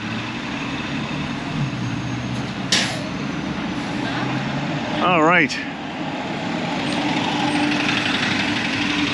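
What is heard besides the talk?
UPS delivery truck on a city street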